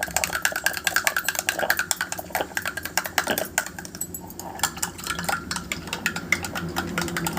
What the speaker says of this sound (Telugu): no you have to mix well అనమాట బాగా మిక్స్ చేయాలి